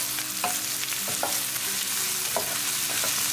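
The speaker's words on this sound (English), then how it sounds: "Cooking our onion for 3 minutes." Onion and ginger cook in a pan for aloo gobi, with a constant frying hiss and a few scattered stirring knocks and scrapes up close. No one speaks.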